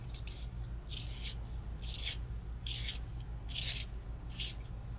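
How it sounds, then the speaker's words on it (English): Short rhythmic scraping bursts of a Stabilo Woody thick-core crayon being turned in a sharpener, about six quiet rasping strokes spaced evenly, close and soft over a low steady hum. "I'm going to give this one a little sharpen."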